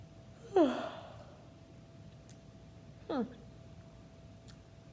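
Two audible yawns a few seconds apart, each a breathy, falling vocal sweep, over a faint steady hum.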